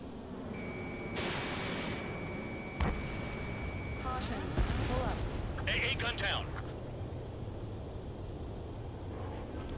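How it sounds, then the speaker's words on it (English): Ace Combat 7: Skies Unknown jet combat with a SAM site launching missiles: a steady roar of engines and battle noise with sharp cracks and whooshing bursts rising over it, plus a long warning tone and radio-like chatter. "The same SAM site that I got targeted is the one that's shooting missiles at me"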